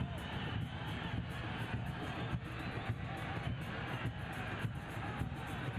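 Stadium crowd at the Motagua vs. Tigres UANL Concacaf Champions League football match: a constant broad roar of many distant voices that stays level and dense throughout, without distinct cheers.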